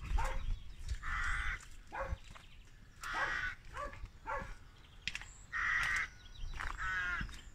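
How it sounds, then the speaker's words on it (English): A dog barks in the distance, faint, irregular bursts spaced a second or so apart over quiet outdoor ambience in Binbrook, a village in East Lindsey, UK. "there's a dog down here barking somewhere"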